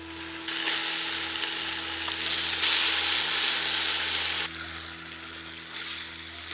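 Chicken pieces sizzle and fry steadily in a pan with tomatoes and rock salt for a Nattu Kozhi chicken gravy, a loud continuous hiss that swells mid-way and eases slightly near the end, with no talking.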